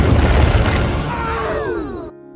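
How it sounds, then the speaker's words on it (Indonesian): A huge, booming explosion as the Eclipse Cannon crashes into the moon in a Sonic story: a loud, broad rumbling blast that holds for about two seconds, with sweeping tones rising through it, then cuts off abruptly. "menyebabkan ledakan besar."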